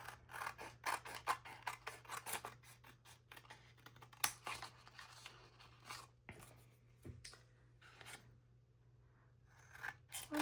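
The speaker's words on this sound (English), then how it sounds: "then go ahead and cut it out" Scissors cutting a brown paper mailer for a junk journal: repeated close snips and papery rustling scrapes, quiet and irregular, with a pause near the end.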